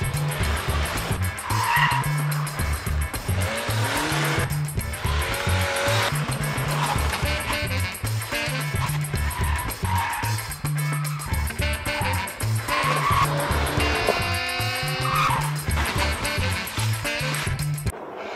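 Seat Leon Cupra 280 hatchback with a 2.0 TSI 280 hp engine cornering hard on a race track, its engine revving and shifting up and down, with a sharp tire squeal near the end of the run.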